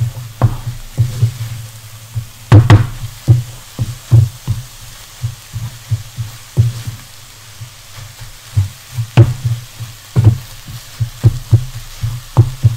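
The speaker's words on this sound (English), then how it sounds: "You can still hear how wet it sounds" Onion softens wet in a pan with no oil yet, giving a soft, uneven bubbling and sputtering with irregular pops and knocks over a low rumble, steady and close.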